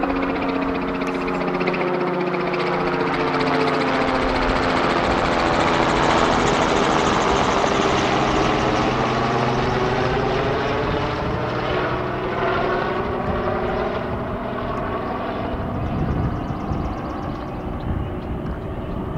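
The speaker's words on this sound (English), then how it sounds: "Nothing coming but a helicopter." Helicopter passing overhead near a railway line, a loud steady rotor and engine drone with pulsing blade chop that swells toward the middle and slowly fades, with no talking.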